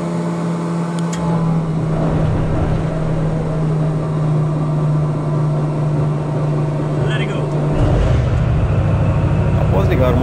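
Leopard 1A5 tank engine running steadily with a deep, constant drone, then a shift in tone near the end as it settles; a voice talks over it throughout.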